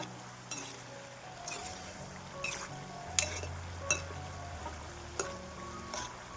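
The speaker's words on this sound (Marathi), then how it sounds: "अजून एखादा मिनटं तळून घ्यायचे मग आपण काढून घेऊ याला" Golden potato balls frying in hot oil give a faint low sizzle beneath sharp intermittent clinks of a metal utensil against the pan, close by, with no talking.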